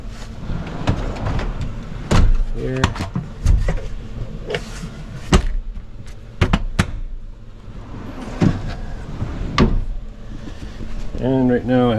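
Drawers in a camper van slide open and shut with several sharp bangs and rattling thuds spread across the passage, close by, while a person talks between them.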